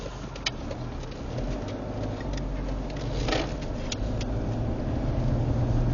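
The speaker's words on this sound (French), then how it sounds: "il y a une voiture qui arrive juste un peu plus loin." A car approaches along a road outdoors, a steady engine and tyre rumble building gradually, with occasional bird calls faintly in the background.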